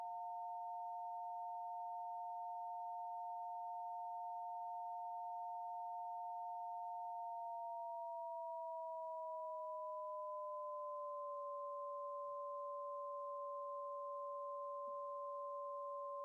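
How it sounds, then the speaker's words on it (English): A steady, pure electronic tone holds, then gradually splits into two close pitches that drift apart and sustain, with a faint wavering quality, alone and quiet. "you can hear some modulated sine wave"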